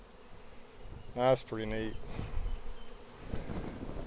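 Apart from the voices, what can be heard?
honey bees in a hive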